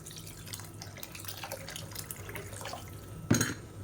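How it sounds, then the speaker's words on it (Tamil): Water poured into a pan of simmering tamarind fish curry (meen kuzhambu), a soft continuous splashing stream near the mic with a brief louder gush near the end, no talking. "இப்போ குழம்புக்கு தேவையான அளவு தண்ணி ஊற்றிக்கலாம்."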